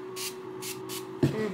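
A Tower 28 facial mist is sprayed in three quick hissing bursts, each short and airy, followed by a brief rustle or handling sound, all close and clear in a quiet room.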